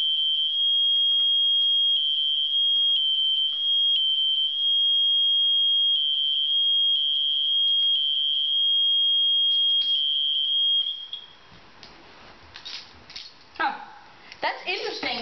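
A Spectre Alert siren running a high-volume test gives off a loud, steady high tone broken by short gaps, then stops abruptly as faint voices and rustling continue.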